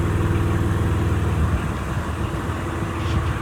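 A diesel engine on an Air-O-Fan MTS sprayer runs at a steady idle while warming up, a constant low mechanical drone with a smooth, unchanging rumble, close and fairly loud, with no voices.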